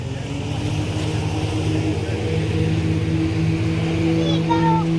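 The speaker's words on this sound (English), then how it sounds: "Speedboat." A speedboat passing a boardwalk at Hart Springs, its engine a steady, fairly loud drone that holds throughout with a slight rise, while people's voices come faintly in the background.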